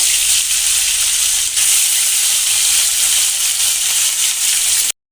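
Katla fish frying in hot mustard oil in a karahi, a loud, steady, close-up sizzle and hiss that runs unbroken for five seconds before cutting off abruptly.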